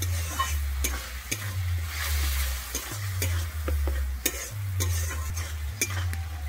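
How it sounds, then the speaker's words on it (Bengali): Yogurt in a pan over low heat is stirred continuously, with a bubbling sizzle and repeated spoon scrapes and clicks against the pan in a steady back-and-forth rhythm, close and moderately loud. "আমি দইটা কিন্তু খুব ভালোভাবে এখানে নাড়তে থাকবো, নাহলে কিন্তু দইটা ফেটে যাবে"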